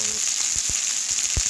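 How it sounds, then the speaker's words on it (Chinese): Chicken wings stir-fry in a hot wok, giving a continuous bright hiss with a few soft thumps of stirring, close and fairly loud. "将鸡翅在锅内炒至。"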